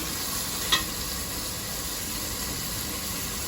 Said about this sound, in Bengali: সেজন্য আমি কড়াইয়ে তেল আর পেঁয়াজ লবণ দিয়ে ভেজে নিচ্ছি